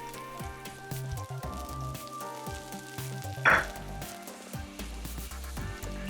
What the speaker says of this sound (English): Then we're going to add some garlic, ginger, and the white part of our green onion.